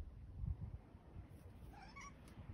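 A small stray kitten found in a garden gives a few soft, quiet meows near the end, after some faint low rustling, with no talking.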